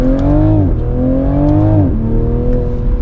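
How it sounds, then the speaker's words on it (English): A 2024 Toyota GR Supra 3.0 engine revs hard through repeated gear changes, pitch climbing then dropping sharply, with brief crackles and pops from the exhaust between shifts. "it gives you those pops on the gear changes and when you're accelerating"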